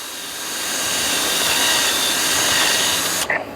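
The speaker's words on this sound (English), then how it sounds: "I'll go ahead and come back in here with my wire wheel. Clean all this up again." A wire wheel on a power tool grinds loudly and steadily against metal to clean it between weld passes on a hydraulic cylinder port, holding a harsh whir for about three seconds before cutting off abruptly.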